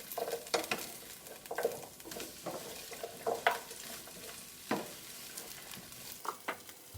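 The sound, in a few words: stir-frying vegetables with garlic paste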